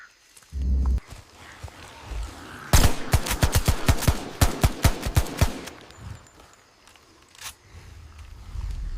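In a forest zombie-apocalypse drama, a dozen or so sharp gunshots ring out in a rapid, evenly spaced burst, following an earlier thump and settling into rustling and light movement afterward, with no speech.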